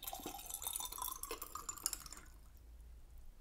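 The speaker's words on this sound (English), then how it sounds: "let's pour in the water" Water is poured into a glass beaker for a control experiment on ocean acidification, a steady, close splashing trickle that fades away toward the end.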